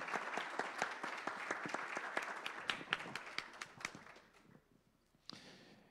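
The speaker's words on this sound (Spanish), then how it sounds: "un aplauso por favor" Audience applause at a construction and agriculture forum in Colombia's Pacific region: dense, lively clapping from a crowd that thins and fades out near the end, leaving a single late clap.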